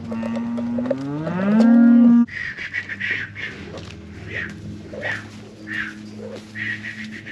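A cow in a barn lets out one long, loud, rising moo up close, followed by a quieter stretch of background animal noise and faint bird calls.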